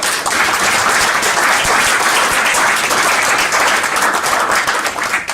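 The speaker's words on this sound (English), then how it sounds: "So can we hear a round of applause once again?" An audience applauding at the end of a speaking event, dense, loud, sustained clapping that fills the whole stretch before tapering slightly at the end.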